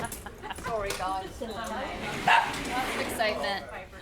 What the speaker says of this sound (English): there's about 6 dogs so far. Some of them slightly more excitable than others.